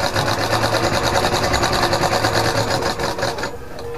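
A sewing machine runs steadily, stitching along the edge of a ladies' pants pocket, its fast rhythmic whir loud and close for about three and a half seconds before stopping.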